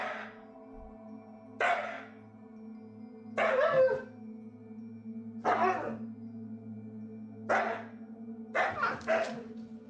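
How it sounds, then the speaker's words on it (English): A husky with the zoomies races around a room, sounding as separate bursts of paw thumps and scrabbling every second or two over a steady low hum, picked up by a home security camera. "uploaded to Reddit by user Frankie Frosty, a husky appears to be caught in the midst of an intense case of the zoomies."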